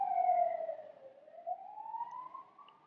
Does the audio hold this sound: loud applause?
no